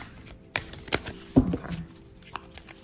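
A few quick papery riffles and soft card slaps as tarot cards are shuffled, brief bursts separated by quiet, close by, with no talking.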